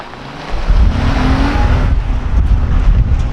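A 2022 Honda Pilot TrailSport's VTEC engine revs hard, a loud surging roar that rises sharply after a brief quieter moment and holds under strong wind-like rush.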